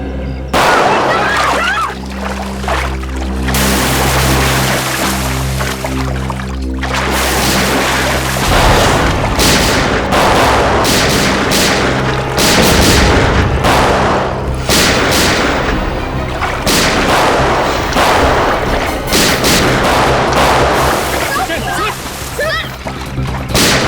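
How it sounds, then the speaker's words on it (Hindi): Gunfire rings out in a police crime drama scene, heavy booming bursts layered over sloshing, splashy water noise and dramatic background sound, with voices talking. "ऊपर से सीआईडी के ऊपर फायरिंग"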